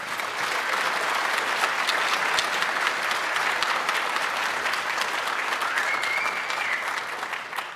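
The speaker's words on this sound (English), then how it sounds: "Give him a round of applause" Dense, sustained applause from a large conference audience, many hands clapping together in a loud, continuous wash that holds steady and fades slightly at the end.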